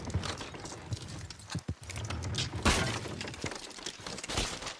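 Horse hooves clatter amid crashing and shattering noises in Red Dead Redemption 2, a chaotic jumble of impacts and breaking sounds with occasional neighing.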